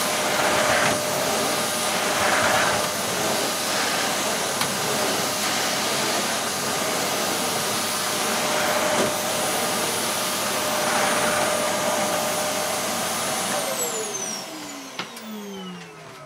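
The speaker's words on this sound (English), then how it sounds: "first impressions, it is slightly noisier, I'd say, than a Henry type cleaner" A Wellco CV16 tub vacuum cleaner runs with a steady, loud whine and airy roar throughout, its motor spinning down near the end with a falling pitch.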